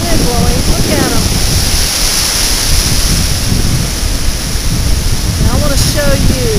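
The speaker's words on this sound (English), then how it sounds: "We captured it because we've got quite a wind blowing." Strong wind roars over the beach at Gulf Shores with surf underneath, a loud steady rumble buffeting close to the microphone, with brief faint voices in the background.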